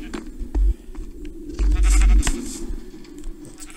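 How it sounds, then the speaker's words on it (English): Sheep in the Minecraft video game bleat in two loud, close bursts over a low steady background hum, with no speech. "So sheep will eat the grass that they're sitting on."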